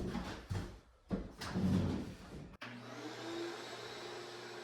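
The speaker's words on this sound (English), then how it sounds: "I went around and used the shop vac to clean up all of the baseboards" A shop vacuum runs close and loud while it is moved along baseboards during an apartment renovation, a whooshing suction roar that dips and swells, cuts out sharply, then settles into a steadier hum.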